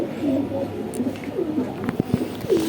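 Young cross-bred pigeons, freshly grown squabs, coo in soft repeated rolling calls close by, several throaty coos overlapping across a few seconds with light rustling between them.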